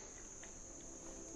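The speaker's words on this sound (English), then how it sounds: "Hope you can hear my cicadas outside" Cicadas chirping outside in the evening, a steady high-pitched buzzing drone that carries on unbroken from start to finish, fairly faint and distant with no voices.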